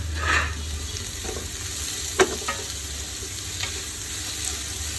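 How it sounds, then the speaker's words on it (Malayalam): Onions sauté in ghee for chicken biryani, a steady close sizzle with a few soft stirring knocks and scrapes in the pan, with no talk. "നന്നായിട്ട് വഴറ്റിയെടുക്കാം."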